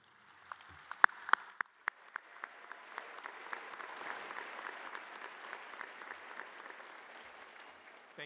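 Audience applause fills a high school graduation ceremony, a dense steady clapping from a large crowd with a few sharp nearby claps standing out early, sustained throughout and slowly thinning toward the end.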